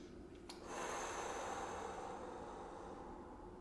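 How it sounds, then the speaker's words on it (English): A long, deep exhale through the nose during a slow full-body stretch, preceded by a short sharp intake, steady and close with no talking. "Breathing in. Breathing out."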